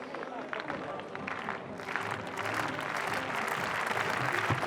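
A stadium crowd applauds and cheers through a women's pole vault attempt at a European team championship, a dense, steady roar of clapping that swells slightly toward the end, with faint commentary underneath.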